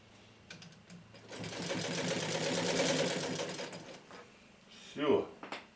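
A ПМЗ-1А sewing machine runs a stitching burst of a few seconds, steady and fairly close, with brief voices and handling noises around it.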